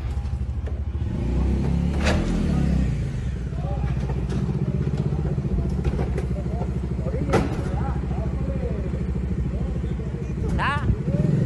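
An ordinary car is driven over rough ground in Bogotá as if it were a 4x4. Its engine rumbles and revs under steady talk, with occasional clattering knocks from the body.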